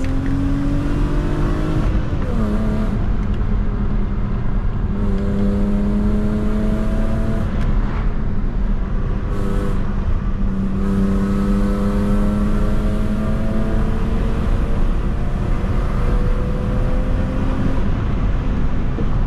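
A BMW E36 320i coupe's engine drones loudly and steadily from inside the cabin on a curvy road, its pitch rising and falling as it accelerates and shifts through gears, with road noise throughout.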